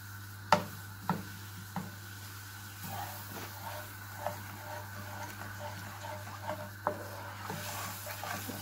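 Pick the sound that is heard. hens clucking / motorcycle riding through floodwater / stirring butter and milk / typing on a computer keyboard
stirring butter and milk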